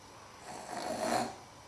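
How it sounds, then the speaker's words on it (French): An elderly woman snores in her sleep at night, a single soft, breathy snore that swells and fades over about a second, heard close and alone in a quiet room. "Je vais voir comment elle ronfle."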